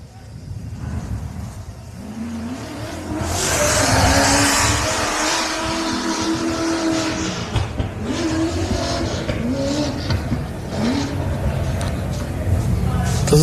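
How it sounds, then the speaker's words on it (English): Adam Spicer's number 961 race car at an off-road 4x4 adventure park, its engine rising and dropping through repeated gear changes, nearby and loud, with a commentator talking over it. "Does it sound like a happy gear change there from the Spicer entry?"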